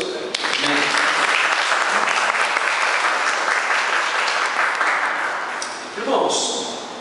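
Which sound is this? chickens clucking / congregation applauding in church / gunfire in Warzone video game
congregation applauding in church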